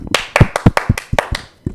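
Several people clap their hands in a quick, uneven burst of sharp, close slaps, about a dozen claps that trail off briefly before a final clap.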